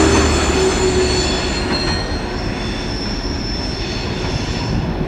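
A freight train rolls steadily past close by, with no caboose at the end, its wheels squealing in a sustained high whine over continuous rumbling rail noise.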